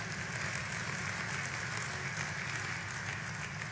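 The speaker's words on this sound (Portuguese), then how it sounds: "pode dar uma salva de palmas ao Senhor" A church congregation applauds the Lord after a preacher's call, a dense, steady wash of many hands clapping that fills the space evenly without pause.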